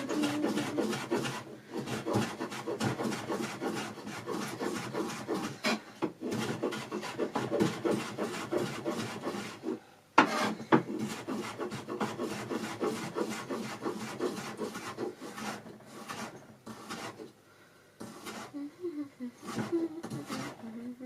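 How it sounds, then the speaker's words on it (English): Knife chopping a soft, wrinkled cucumber on a board, a fast run of sharp repeated cuts that pause briefly, then resume more sparsely, close and clear with no talk. "got this very unhappy looking cucumber. Let me just chop that one up then."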